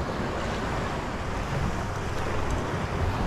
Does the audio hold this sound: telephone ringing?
no